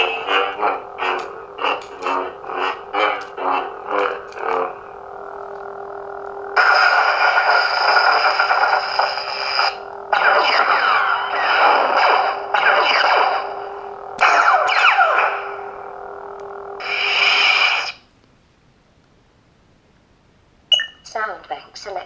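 Lightsaber sound font on a replica Luke Skywalker Return of the Jedi saber: a run of short electronic blips gives way to sustained loud humming swells with abrupt cutoffs, then near silence and a final brief burst.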